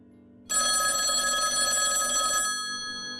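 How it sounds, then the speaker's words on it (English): A telephone bell rings loudly and close by in a quiet room, one sustained ring of about two seconds that cuts off abruptly and leaves a brief fading tail. "I would say it was around 8:30 when the phone rang."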